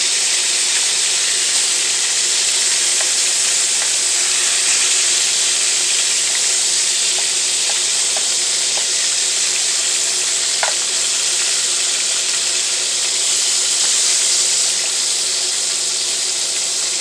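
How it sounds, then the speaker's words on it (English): Turkey wings sear in a hot pan with a steady, loud sizzle throughout and a few tiny pops and crackles scattered across the frying. "we're just searing the turkey wings on both sides"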